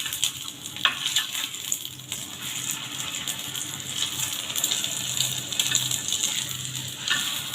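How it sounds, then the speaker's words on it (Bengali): Eggs frying one after another in a pan, giving a steady close sizzle and crackle with scattered pops throughout, no voices over it. "এভাবে আমি একে একে সব ডিমগুলো ফ্রাই করে নেব।"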